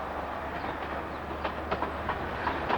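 A train rumbles steadily across Skerne Bridge on the historic Stephenson railway route, a continuous low roar with a sequence of rhythmic wheel clicks over the rail joints, fairly close and with no talk.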